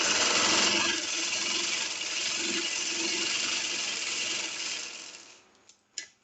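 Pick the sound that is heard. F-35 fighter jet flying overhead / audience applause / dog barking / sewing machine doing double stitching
sewing machine doing double stitching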